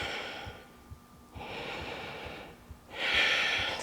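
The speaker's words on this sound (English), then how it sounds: "Just take 3 breaths here." Slow, audible breaths are drawn in and pushed out through the nose while holding a yoga spinal twist, with three soft breath cycles, close and fairly faint, the exhales slightly louder and longer, with no talking.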